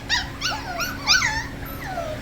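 A seven-week-old puppy gives several high, yipping barks and whimpers in quick succession, close and fairly loud, with no talking.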